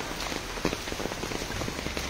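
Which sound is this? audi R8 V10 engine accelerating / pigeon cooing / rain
rain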